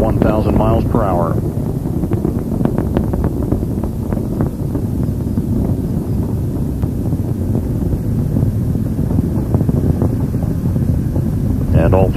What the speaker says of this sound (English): All three main engines are throttling back up.